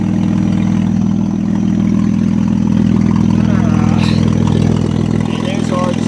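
A 2003 Saturn Vue AWD, silver, runs with a steady mid-pitched engine drone and exhaust rumble held constant throughout, close and loud, with a brief lighter clatter near the end.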